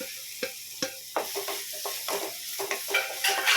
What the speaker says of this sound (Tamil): வெண்டைக்காவும் சேர்த்து நல்லா ஃப்ரை பண்ணிக்கலாம் அந்த எண்ணெயோடவே சேர்த்துக்கோங்க